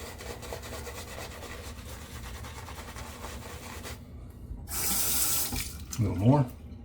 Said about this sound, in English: Get some water on this.